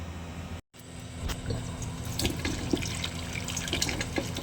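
Tap water runs steadily over okra being washed in a home kitchen sink, a continuous splashing hiss with small clatters as the pods are handled, near and alone without talk.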